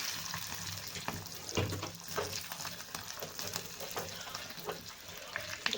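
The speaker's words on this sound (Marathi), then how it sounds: "आता त्यात टाकूया आपण कडीपत्ता आणि ह्या हिरवी मिरची ह्याला पण चांगलं कडकडीत आपण मस्त फोडणी बनवणार आहे" Curry leaves, green chillies and garlic spluttering in hot oil for a tempering, a fairly soft crackling sizzle with scattered pops and a faint hum underneath.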